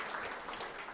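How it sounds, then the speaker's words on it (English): Audience applause at an art auction event, a faint, steady patter of clapping from a crowd heard at a distance throughout the brief moment. "give them a big round of applause"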